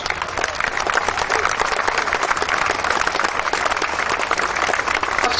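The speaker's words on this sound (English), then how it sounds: "massive round of applause" A large outdoor show audience at the Hadleigh and Suffolk Shows applauds a parachute display team landing with the Union flag in the arena, a dense, steady roar of clapping throughout.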